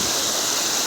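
A mountain stream rushes steadily and fairly loudly, a continuous broadband wash of flowing water with no breaks.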